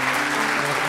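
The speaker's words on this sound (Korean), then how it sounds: "교수님께서 등장하실 때 큰 박수로 환영해 주시면 감사하겠습니다" An audience at a science talk concert gives a brief burst of loud, dense applause in welcome, with a faint voice under the clapping.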